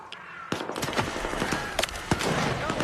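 Gunfire in the video game Stalker 2 played in VR, a busy gunfight of rapid sharp shots and bursts cracking at mid distance, dense and continuous over a low background rumble.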